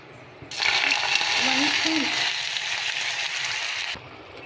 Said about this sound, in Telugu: కొంచెం కూడా వాటర్ వేయకుండా సిమ్లో పెట్టి కలుపుతూనే ఉండాలండి